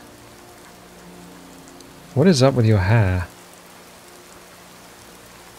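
Steady rain falling in the fantasy role-playing game Skyrim, a soft even hiss running through the whole stretch, briefly overlaid by someone talking in the middle.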